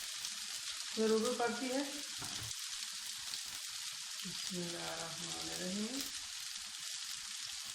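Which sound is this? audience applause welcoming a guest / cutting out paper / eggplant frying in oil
eggplant frying in oil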